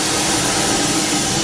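A hand dryer built into a sink in Japan blows a steady, loud, close-up roar of rushing air that holds constant throughout, with no voices.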